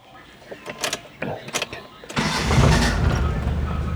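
A carburetted car engine runs with its air conditioning switched on, then stalls and cuts out as the compressor load engages; a few knocks and clicks come first, then a loud, steady broadband rush fills the rest, and a voice is faintly present.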